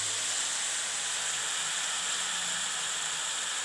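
Stuffed brinjals frying in oil in a village-style kitchen, a steady, dense, close sizzling hiss with no breaks, heard alone without talk.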